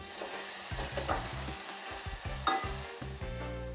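Vegan jerk mix with Scotch bonnet pepper sizzles and crackles steadily in a hot pan, with occasional stirring clatter and scrapes over the continuous frying hiss.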